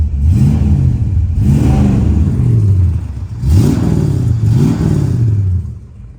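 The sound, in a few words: 1963 Dodge 330 police car engine revving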